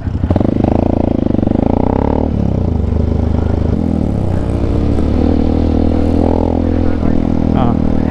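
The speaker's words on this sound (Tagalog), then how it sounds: "ang ingay ng motor ko niyan sa video" Loud motorcycle engine drones steadily while riding a high mountain road between Pangasinan and Nueva Vizcaya, with pitch rising and falling as the rider shifts, and a voice talking over it throughout.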